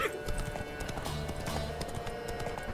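Horse hooves clip-clopping at a gallop, a quick close rhythmic beat of hoofbeats with no talk over it.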